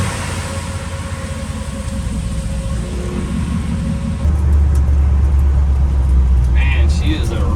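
Ford F100 pickup with a swapped-in Coyote V8 driving on the street, a steady low engine rumble that swells and grows louder partway through and then holds there, heard from inside the cab.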